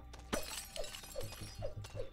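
Wine glasses smashing in the video game Freddy Spaghetti, a series of five or six sharp glassy shatters in quick regular succession over steady game background sound.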